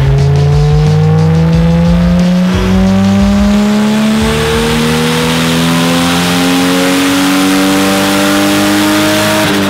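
A turbocharged Toyota Supra engine revs hard on a dynamometer, one long loud pull with the engine tone climbing steadily from start to end, close and without any talking.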